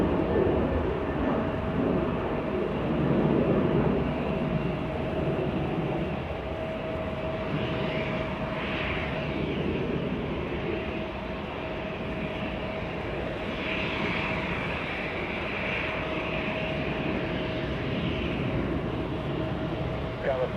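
Singapore Airlines flight 36, a jet airliner at Los Angeles International Airport, gives a low continuous engine roar and whine, moderately distant and steady, while someone talks over it.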